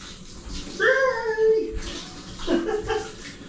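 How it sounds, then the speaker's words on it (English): A shower runs in a cruise ship cabin as a steady hiss of falling water. A voice is heard over it, partly singing or chuckling, close by. "I'm here taking a shower in this cruise ship."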